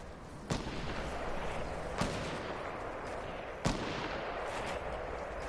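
Gunfire in the Fortnite video game: three sharp, loud shots spaced about a second and a half apart, cutting through a steady wash of in-game noise with no talking.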